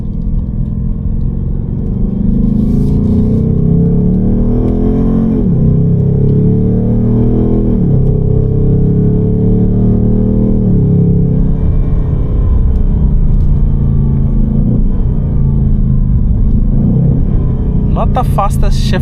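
A 2025 Ford Mustang GT's engine drones loudly and steadily while driving in manual mode, with pitch swings as it changes gears through the paddles; someone speaks over the rumble.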